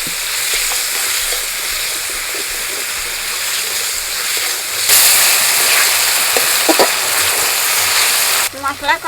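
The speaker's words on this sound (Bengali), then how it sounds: "মশলা কষানো হয়ে গেছে" Spice masala with tomato sautéing in a pan for vegetarian chana dal gives a loud, steady sizzle close by. It surges louder midway and ends with a few scraping stirs.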